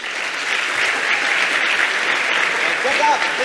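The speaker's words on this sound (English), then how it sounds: "So a big round of applause for Split the Bill." A large audience claps loudly and steadily at a hackathon closing ceremony, a dense, sustained wash of applause with a few faint voices mixed in.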